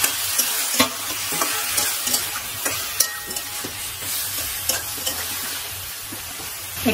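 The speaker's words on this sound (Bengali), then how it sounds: "বেশ খানিকক্ষণ আমি গ্যাসের ফ্লেমটা বাড়িয়ে একটু কষিয়ে নেব" Chicken meat stir-fries over a high gas flame, oil sizzling constantly while a spatula scrapes and knocks against the pan in irregular strokes, close and clear without talk.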